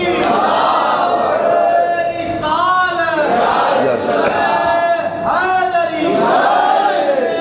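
A crowd at a religious gathering chants a slogan in unison, loud repeated collective shouts rising and falling in a rhythmic call-and-response pattern, several chant phrases in a row close and forceful.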